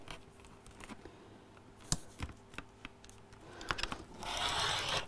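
A blade that sounds worn slices the side off a piece of fabric during quilting work, making scattered scratchy cuts and ticks, then a longer hiss-like drag at the end, close with no talk.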